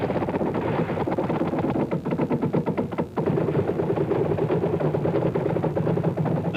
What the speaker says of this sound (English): The U.S. armored troops responded with a barrage of machine gun and tank rounds.